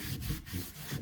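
Short rhythmic strokes of wax being rubbed onto sanded wooden furniture, a soft scuffing back-and-forth repeated about four times, close and fairly quiet.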